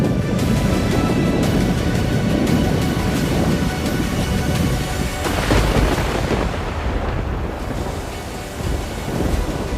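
Heavy rain pours in a dense, loud roar with rumbling thunder and gusty wind buffeting the microphone during a storm that triggered landslides on a hillside highway in Himachal Pradesh.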